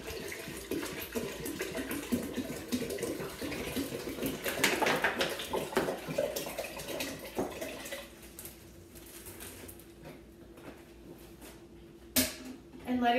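Hot water pours steadily into a container for kombucha, a continuous splashing gurgle that thins and trickles off partway through, with a brief clink near the end and speech-like sounds mixed in.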